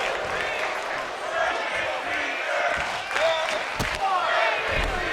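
Wrestling video game crowd chanting during an NXT Universe Mode match with King Caleb, a steady roar of massed voices filling the arena with rising cheers and bursts throughout.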